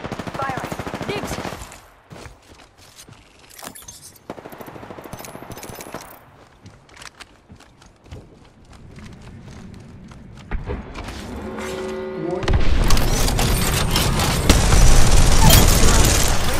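Bursts of automatic gunfire and booms in an Apex Legends battle, scattered sharp shots early, then a dense, loud stretch of rapid firing toward the end.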